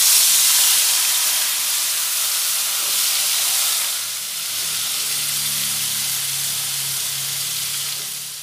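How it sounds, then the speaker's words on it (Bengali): Potatoes frying in hot oil with turmeric give off a steady, close, even hiss of sizzling that fills the whole stretch, with a faint low hum joining partway through. "এবারে আলুগুলি ভেজে নেব।"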